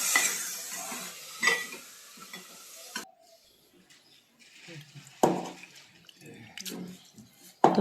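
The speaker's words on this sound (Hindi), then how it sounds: "इसमें थोड़ा सा पानी डाल दूँगी और डाल के फिर मसाले को अच्छे से पका लेंगे।" Water added to basic cooking spices frying in a pan, heard as a loud sizzling hiss that bursts in, cuts out, then returns in short splashes and stirring scrapes, close up with no talking.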